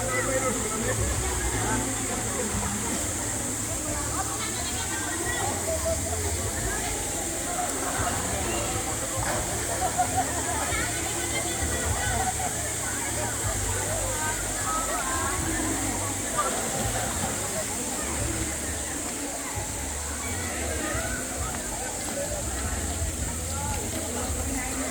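Steady rushing waterfall at Arayat, a broad constant hiss of falling water heard from a short distance, with people talking over it throughout.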